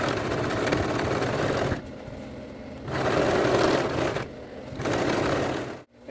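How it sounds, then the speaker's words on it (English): Serger overlocking the raw fabric edges of a knife-pleated skirt, whirring loudly in three sustained runs separated by brief quieter pauses, ending with a short stop, no voices. "So I'll just begin to serge."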